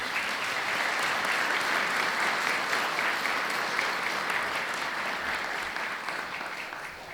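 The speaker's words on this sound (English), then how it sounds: "Let's give our City Finance Department a round of applause." Audience applause for a city finance department at a State of the City address in Fayetteville, Georgia: steady, dense clapping from a large crowd that fills the room, sustained throughout and tapering slightly at the end.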